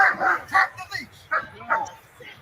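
A German Shepherd barks several times in quick bursts, fairly close, with some voices or whimpering tones mixed in between the barks.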